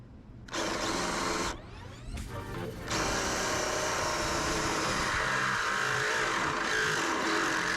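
A power drill with a 1/2 inch bit bores through metal during a Metalcloak roof rack install, starting and stopping in two short bursts before settling into a loud, continuous grinding run.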